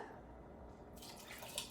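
Water poured into an Instant Pot while cooking mint rice, a soft splashing pour that starts about halfway through and continues steadily to the end, close and moderately quiet, with no talking.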